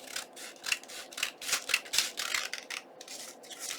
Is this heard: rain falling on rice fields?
no